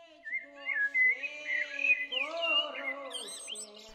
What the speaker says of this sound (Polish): Podczas wędrówki przez las dochodzi do nas melodia pieśni leśnej.